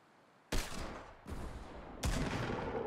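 Three bursts of gunfire blast at player-built structures in Fortnite, loud and close, each a sharp onset with a dense crackling tail that runs into the next.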